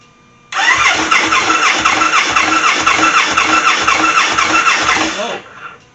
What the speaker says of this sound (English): let's fire this thing up and see what kind of oil pressure we've got